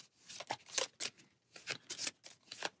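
Cards from the Altar Quest board game are shuffled by hand in several quick, close riffling bursts with short pauses between them, crisp and fairly quiet on a tabletop.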